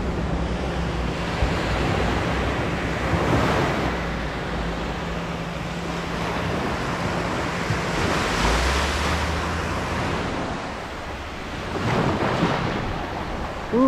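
Ocean waves break on a Cayman shore, swelling in broad washes of surf every few seconds over constant wind rumble, with no talk.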